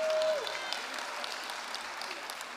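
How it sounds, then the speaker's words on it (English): An audience in a hall claps for the ladies competing in a pageant, with a sustained, moderate wash of applause and a brief tone at the start, fading slightly toward the end. "Clap for them for me."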